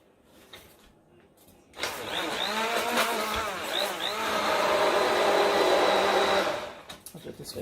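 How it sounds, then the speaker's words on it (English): An immersion blender whirring while cabbage is prepared for pressure canning: the motor kicks on abruptly, holds a steady high-pitched whine for several seconds, then cuts off. "Use your immersion blender."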